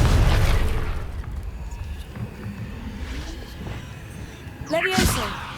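A Confringo spell sets off a booming explosion in the video game Hogwarts Legacy, opening with a loud blast and fading into a rumble, with a second sharp burst near the end.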